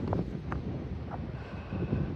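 Wind by a rough sea pushes steady low buffeting rumble into the microphone, with soft gusts rising and falling throughout and no voices.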